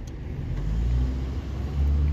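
A car stuck in deep sand at White Pocket, Arizona, engine droning low and steady as it strains to accelerate, a continuous rumbling heard close with no talk.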